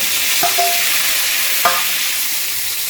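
Chopped tomatoes sizzle in hot oil with asafoetida and ginger-garlic paste in a kadai, a steady close frying hiss broken by two brief clanks of a spoon against the pan.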